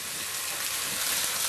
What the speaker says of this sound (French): On entend ce doux bruit de la viande qui grille.